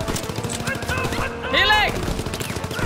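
Rapid automatic gunfire in Call of Duty WW2 rattles continuously and loudly for the whole stretch, with a brief voice cutting through partway.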